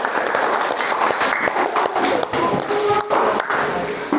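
An audience claps at a classroom group presentation session, a dense patter of hand claps lasting a few seconds with brief dips, fairly close and without talking over it.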